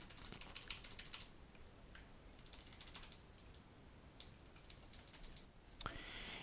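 Quiet clicking of computer keys in irregular bursts, with quick runs of close keystrokes separated by short pauses and a louder cluster near the end.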